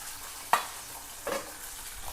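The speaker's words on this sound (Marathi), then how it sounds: "सर्वप्रथम आपण तेल टाकलं कढईमध्ये, मिरच्या टाकूया, लसूण टाकूया आणि आलं टाकूया।" Chillies, garlic and ginger fry in oil in a wok, giving a soft steady sizzle broken by two short stirring scrapes, with no talk.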